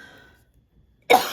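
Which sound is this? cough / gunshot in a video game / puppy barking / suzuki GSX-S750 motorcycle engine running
cough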